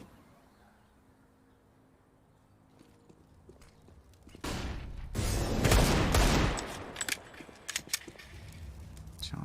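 Gunfire in a Counter-Strike match on the Inferno map during a professional grand final, with a dense burst of rapid shots after a quieter start, followed by scattered individual shots.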